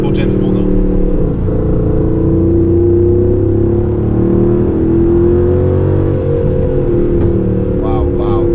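A 2019 Aston Martin Vantage AMR with a manual gearbox drives a winding lakeside road in Italy, its engine droning loud and steady throughout with rising revs, heard from inside the car.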